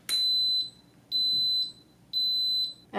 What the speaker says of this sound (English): the unit beeped